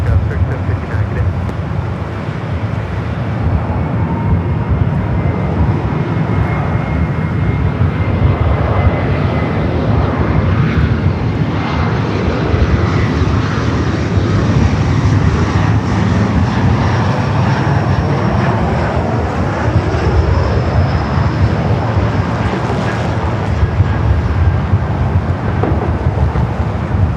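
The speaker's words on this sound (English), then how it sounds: "Eva Air Cargo 777 freighter taking off" An EVA Air Cargo Boeing 777 freighter taking off at Los Angeles airport, a loud sustained jet engine roar with wind buffeting on the microphone, steady and powerful throughout.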